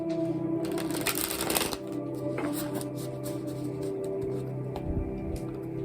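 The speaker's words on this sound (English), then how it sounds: "Go ahead and give this a good little shuffle." Rapid papery riffling and soft slaps of tarot cards being shuffled by hand, close up, in uneven bursts with brief pauses.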